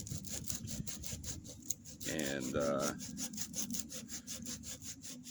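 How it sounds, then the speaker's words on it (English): Hand sanding of wood, a steady rasping scrape repeated in short strokes, with a brief spoken word partway through. "just kind of sanding this all out and trying to round it out."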